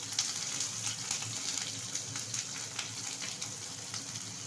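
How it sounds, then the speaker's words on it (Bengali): Chopped onion and green chilli fry in oil, making a steady, moderate sizzle and crackle close up, with no one talking. "তেল দেওয়ার পরে এই যে আমি পেঁয়াজ আর একটু কাঁচা লঙ্কা কুচি দিয়ে দিচ্ছি"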